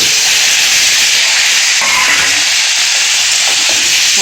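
Potatoes and turnips go into a hot spice paste for a Bengali tilapia curry, bringing a loud, continuous hissing sizzle that stays close and even the whole time, with no talk.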